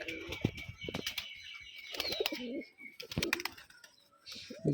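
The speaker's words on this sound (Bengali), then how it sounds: "কবুতরগুলো ছাড়া আছে, এর জন্য ধরতে পারছি না।" Rajshahi Giribaj pigeons flutter their wings and coo nearby in quick, scattered bursts, with occasional short clattering flaps between the calls.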